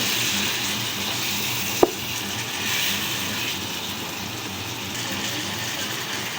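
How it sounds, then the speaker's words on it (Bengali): Beef pieces go into a pan of cooked-down spice mix and fry while being stirred, a continuous close sizzle with one sharp knock of the spoon early on. "মাংসগুলো দিয়ে দিচ্ছি এখন এটাকে ভালো করে নেড়ে চেড়ে মিশিয়ে নেব"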